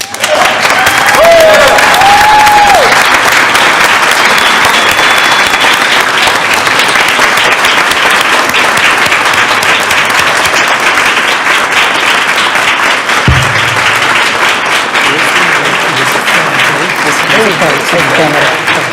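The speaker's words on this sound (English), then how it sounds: "Therefore, please join me in giving a big round of applause to the 2023 Humanitarian Award recipient, Ja" An audience at a city council meeting gives a loud, sustained round of applause for a humanitarian award recipient, a dense continuous clapping from many hands with faint voices mixed in.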